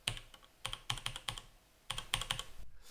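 Someone types on a WASD mechanical keyboard in quick bursts of sharp, clicky keystrokes with a short pause between runs, close and fairly quiet.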